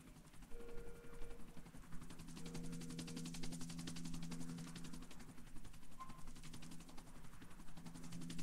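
Helicopter in Grand Theft Auto IV flying steadily, a continuous throbbing rotor and engine drone with a rapid pulsing texture, loud and unbroken throughout without talk.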